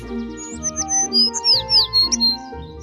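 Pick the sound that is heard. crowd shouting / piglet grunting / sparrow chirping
sparrow chirping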